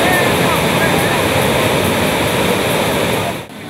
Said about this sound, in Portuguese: A água corre rápido e despenca com muita fúria.